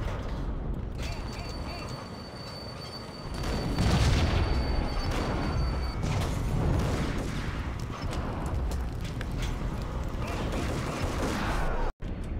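Gunfire in the Max Payne video game: a dense, continuous burst of shots and mechanical clatter, loudest in the middle stretch, with a voice talking over parts of it.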